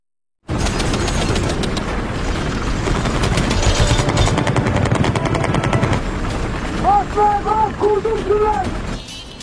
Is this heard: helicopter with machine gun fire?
yes